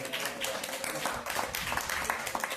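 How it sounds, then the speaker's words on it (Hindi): An audience at a devotional talk in an ISKCON temple claps together, a dense, faint patter of many hands sustained without pause. "ताली बजा दीजिए अपने लिए"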